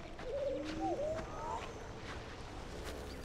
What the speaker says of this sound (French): Oh, des oiseaux.